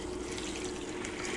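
Boiling water pours steadily from a container onto a nano material sample, a continuous close splashing hiss with no pauses and no talk.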